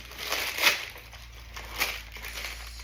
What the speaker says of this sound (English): you take it and you crumple it up into a ball